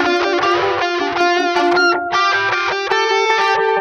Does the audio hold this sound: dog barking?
no